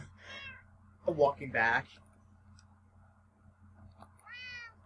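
A Minecraft cat gives a couple of short meows near the start and again near the end, while someone talks over the gaps between them.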